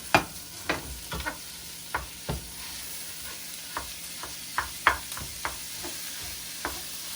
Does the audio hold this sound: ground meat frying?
yes